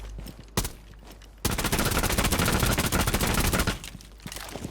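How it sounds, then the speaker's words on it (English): FMG-9 submachine gun in Rainbow Six Siege, heard first as a single loud shot and then as a sustained, very rapid automatic burst of more than two seconds, followed by quieter scattered gunfire in the distance. "Now the FMG is a high fire rate weapon with a 0 recoil."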